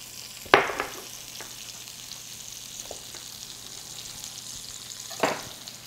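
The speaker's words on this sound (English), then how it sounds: "I love the smell of fried onions." Chopped onion frying in bacon drippings in a pan makes a soft, steady sizzle, with two louder crackling spatters, one near the start and one near the end, and no talk.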